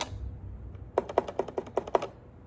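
The buttons on a black Encore Edition CRKD guitar controller click quickly and crisply, about seven sharp taps in a fast run, close and fairly quiet against a near-silent background.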